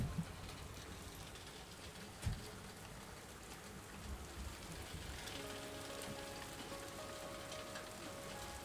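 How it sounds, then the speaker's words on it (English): Heavy rain falls outside and is picked up close to a microphone as a faint, dense, steady patter. A couple of soft knocks sound near the start, and there is no talking. "it is really raining like crazy out there"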